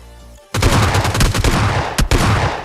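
Loud, close gunfire from the video game PUBG Mobile erupts after a brief quiet start, a rapid sustained volley with one sharper burst near the end, no talking over it.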